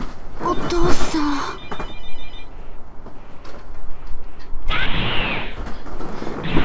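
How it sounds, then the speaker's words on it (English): A telephone rings with bright, repeated electronic trills during a Dragon Ball Z Budokai Tenkaichi 3 play session, mixed with game effects and voices talking over it. "Oh no, the phone."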